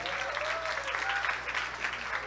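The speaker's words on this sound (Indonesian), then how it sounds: "Tepuk tangan dulu." Students at an Islamic senior high school clap together in a room, a brief, steady burst of crowd applause.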